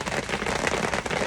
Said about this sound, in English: it's thundering and raining.